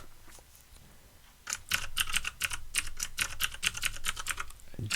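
Rapid typing on a computer keyboard as a terminal command is entered on an Ubuntu 20.04 install, a burst of close, crisp key clicks starting after a quiet moment and running steadily to the end.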